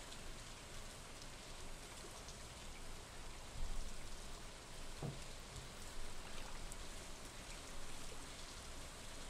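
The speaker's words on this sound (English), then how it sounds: "Theoretically, it's raining," Steady patter of rain falling on surfaces in the video game Stardew Valley, a soft continuous hiss with a few louder drops standing out.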